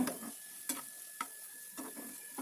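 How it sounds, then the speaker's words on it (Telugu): Bitter gourd pieces fry in a pan with a spoonful of ginger-garlic paste, giving a faint, quiet sizzle with four or five soft, evenly spaced spatula scrapes nearby. "మనం దీన్ని పర్ఫెక్ట్గా వేపాలి మాడకుండా ముక్క ఉడికేటట్టు వేపుకోవాలి"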